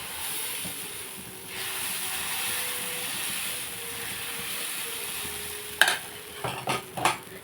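Green gram pesarattu batter, Kakinada chitti style, sizzles on a hot pan with a constant close hiss of frying, followed by a few scraping, clattering stirs toward the end.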